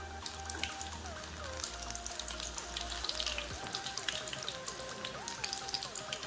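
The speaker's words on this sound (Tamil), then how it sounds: "அதே மாதிரி மீடியம் ஃப்ளேமில் வச்சு ஃப்ரை பண்ணிக்கோங்க." Soya chunks frying in oil over a medium flame give a steady, fine sizzle and crackle. It continues evenly throughout at a low, close level, with faint background music.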